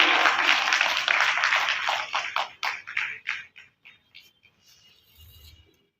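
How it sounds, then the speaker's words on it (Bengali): Audience applause at a birthday tribute concert for a singer, starting as dense, loud clapping, then thinning into scattered, separate claps that fade out after a few seconds. "সুন্দর মুহূর্তে একটা করতালি চাইব জোরে"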